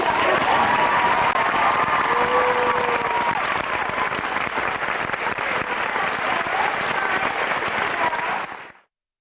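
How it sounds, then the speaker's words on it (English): A steady wash of audience clapping for the stars of a live show, dense and even from start to finish before cutting off abruptly at the end. "We want to ask for a big round of applause for our"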